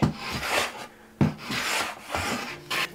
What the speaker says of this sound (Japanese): カンナ掛けすることもできますね。